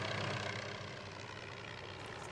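A helicopter flies overhead above the desert along the Arizona border, its rotor and engine making a steady, broad, fairly loud roar that fades slightly as it continues, with no voices.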